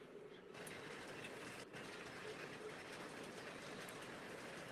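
A model train with a turbine tender runs on a home layout, its unoiled tender noisy, giving a continuous steady rolling rumble with no break.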